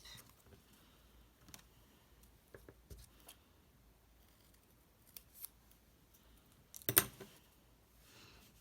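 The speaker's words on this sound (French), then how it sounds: "Hop, le papier sapin ombragé, je peux le couper." Scissors snip shaded fir-tree patterned paper for a handmade Christmas card, a few quiet scattered cuts close to the microphone with a sharper snip near the end.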